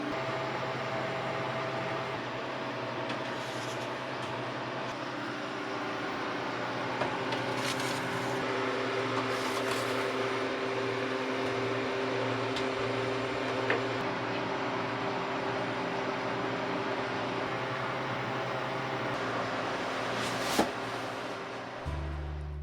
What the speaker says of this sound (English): While the freeze dryer is working away there